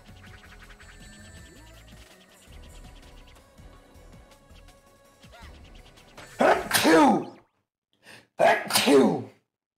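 Two loud, close sneezes burst out one after another, following a stretch of quieter background game sounds.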